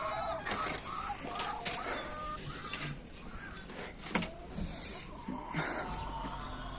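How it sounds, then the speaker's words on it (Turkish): Chickens cluck and chatter in a busy coop, with several birds calling at once over steady background noise and brief sharper squawks. "Yumurtaya devam eden tavuklar da var şöyle."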